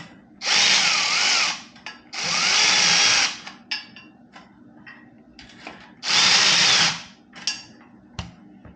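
A power tool fastens the exhaust header pipe clamp on a 2022 Speed Twin motorcycle: three loud, close whirring bursts of a few seconds each, separated by pauses filled with small clicks and taps.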